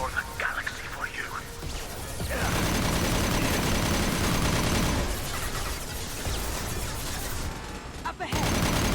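Dense gunfire in Mass Effect Legendary Edition 2, a sustained loud fusillade of rapid shots with cracking impacts that fills most of the stretch, preceded by quieter effects and a voice speaking, then cutting off abruptly near the end.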